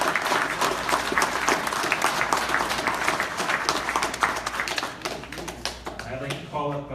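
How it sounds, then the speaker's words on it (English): An audience claps steadily at a classroom program completion ceremony, a dense crackle of applause that runs the full length and tapers slightly near the end while a voice is heard. "So let's give Sarah a big round of applause."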